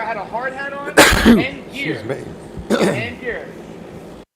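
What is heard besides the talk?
sneeze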